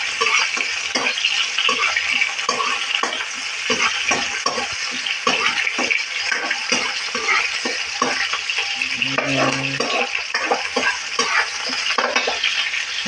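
Ground pork sizzles steadily in a pan, with a spatula scraping and stirring in a constant rhythm close up.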